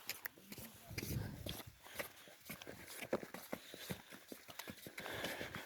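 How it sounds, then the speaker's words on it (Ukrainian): A mare's hooves clop on the ground in an uneven walking rhythm, fairly close, while a person talks quietly over the steps. "Крок великий має. Ногу ставить кобила."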